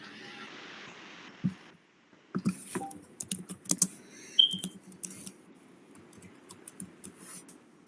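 Keys clatter on a computer keyboard as text is entered, a quick irregular burst of close, crisp taps after a short pause, with a soft background hiss.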